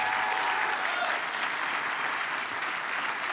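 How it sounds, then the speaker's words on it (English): A civic forum audience breaks into loud, dense applause to honor a list of panel members. It is a thick, continuous roar of many hands clapping that stays full and steady throughout. "Let's really amp up that applause."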